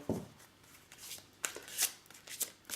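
Oracle cards of angels and crystals being shuffled by hand give soft, close bursts of riffling and sliding paper with brief pauses between, quiet and without speech.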